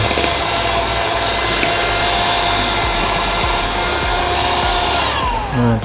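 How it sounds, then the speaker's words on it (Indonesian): An electric hand mixer beats chocolate cake batter for a London chocolate cake, a loud, steady motorized whir that runs unbroken and close for several seconds before winding down at the very end. "ini kita mixer biar dia lebih light,"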